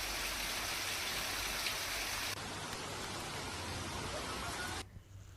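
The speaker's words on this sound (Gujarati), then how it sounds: "વરસાદી માહોલ જામ્યો હતો।" Monsoon rain falls steadily in Halol taluka, Panchmahal, a dense even hiss that fades slightly toward the end, with no voices heard.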